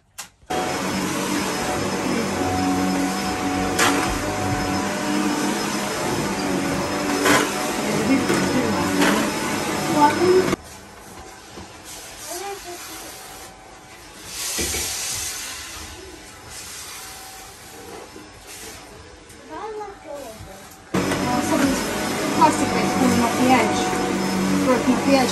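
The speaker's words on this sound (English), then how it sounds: "so he's doing a bit of hoovering and a bit of tidying" A vacuum cleaner hoovers a bedroom during a makeover, its steady drone cutting off partway through and starting up again near the end, while people talk during the quiet gap.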